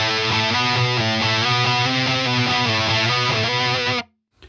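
Heavily distorted electric guitar playing a chord from a song with the middle string muted, struck in a steady, tight rhythm for about four seconds before stopping abruptly into silence.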